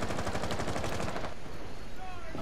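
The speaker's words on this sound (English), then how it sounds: "all I hear is gunfire." Gunfire in the video game Rainbow Six Siege, a loud burst of rapid automatic shots for over a second, then fading into rougher, scattered noise.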